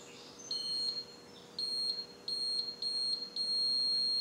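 A torque-angle tool used while fitting a new cylinder head on a Land Rover 300Tdi engine gives a series of short, high electronic beeps, about five in a row with brief gaps, fairly quiet and alone.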